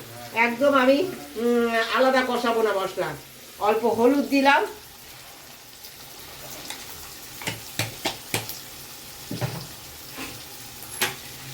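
Spices, salt and young jackfruit with paneer cook in a pan with a little hot water, a soft sizzle with light stirring scrapes and clicks following a stretch of talking, close and fairly quiet.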